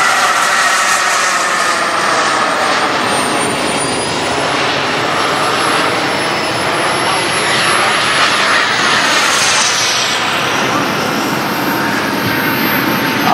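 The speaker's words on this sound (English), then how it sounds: "A-10 will be landing." An A-10 jet aircraft landing roars loud and close for the whole stretch, a sustained jet-engine rush with a high whine sweeping past midway.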